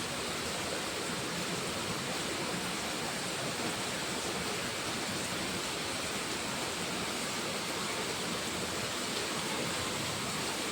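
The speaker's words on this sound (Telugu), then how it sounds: "ఇంత వాన అదే పంట పొలాలలో పడితే బాగుపడతాం." Heavy rain pours down in a steady, dense roar of broadband hiss that holds unbroken and fairly loud from start to finish, with no voices over it.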